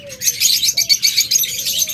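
Pet birds in a shop, lovebirds and budgerigars, chirp in a busy overlapping chatter of rapid tweets, close and continuous, with a faint low hum beneath.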